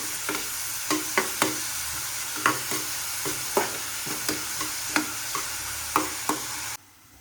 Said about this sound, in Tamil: மறுபடியும் நல்லா கிண்டணும்.